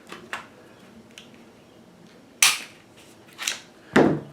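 Sharp metallic clicks and snaps from a Glock 19 pistol being taken apart, a few faint clicks followed by three louder, close snaps spaced about a second apart in a quiet room.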